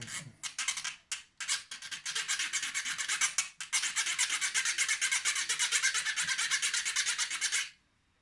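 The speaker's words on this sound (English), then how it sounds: "So I'm just trying to file this nub down a bit." Spyderco Byrd Robin 2 knife blade being reprofiled freehand on diamond stones, giving a steady run of rapid, close rasping strokes that fall into a continuous scraping rhythm, briefly pausing near the start and then stopping abruptly.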